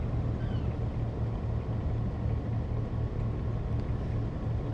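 A boat engine drones in a ship simulator game, a steady low rumbling hum with a faint regular pulse throughout, moderately loud and unchanging, heard alone without talk.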